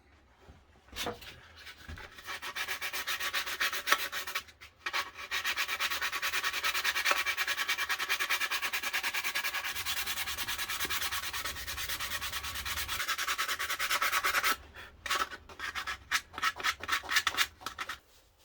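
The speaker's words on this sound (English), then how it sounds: "I'm gonna sand it down and top this knife off with some oil for the handle." A handmade forged knife is sanded by hand, with a close, steady rasping scrape that runs continuously for several seconds between a few short strokes at the start and end.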